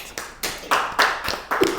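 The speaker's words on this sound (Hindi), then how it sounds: "जोरदार तालियों के साथ" A handful of sharp hand claps from an audience at a literary recital ring out one after another in an uneven rhythm, close and fairly loud.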